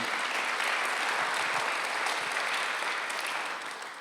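A Sunday-service church congregation claps together, a sustained wash of many hands at moderate distance, continuous and even before tapering slightly near the end.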